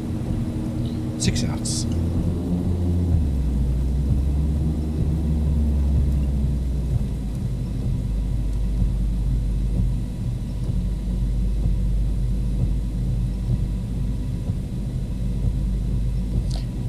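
A Carenado Fokker 50 turboprop in a flight simulator applies reverse thrust to brake on a snowy landing rollout, producing a steady, heavy low roar throughout, with a brief spoken callout over it.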